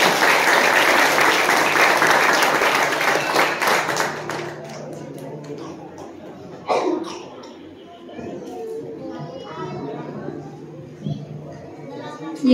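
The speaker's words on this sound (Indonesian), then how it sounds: "tepuk tangan untuk Mbak Arsy" Audience applause for a contestant at a recitation contest grand final, loud clapping for the first four seconds that then dies away into scattered claps and room noise, with someone talking afterward.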